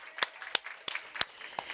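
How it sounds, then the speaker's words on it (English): A handful of sharp, evenly spaced hand claps ring out for Laura at a Women in Tech 2020 event, about five distinct claps, fairly close and modest in volume. "A big applaud for Laura"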